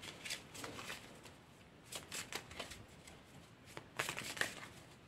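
Tarot cards are shuffled and drawn by hand in short bursts of papery riffling and flicking, soft and close, separated by quiet pauses, with no speech.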